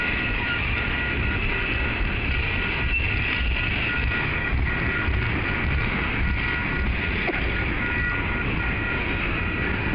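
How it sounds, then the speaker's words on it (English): A steady, loud rumble of heavy freight stone hopper cars rolling past, with continuous rattling and faint rhythmic clatter on the rails, close and unbroken. "Here come the stone hoppers on the bottom end."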